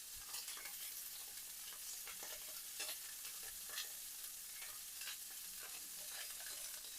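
Apricot glazed pork chops fry in a pan over high heat, giving a steady close sizzle dense with sharp crackles and scattered pops throughout, with no talking.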